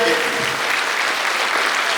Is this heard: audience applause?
yes